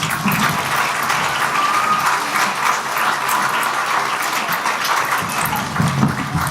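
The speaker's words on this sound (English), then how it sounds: "Give a round of applause for the jitterbug dance." An audience applauding a jitterbug dance number in a stage production of The Wizard of Oz, with dense, continuous clapping that holds steady throughout, full and close.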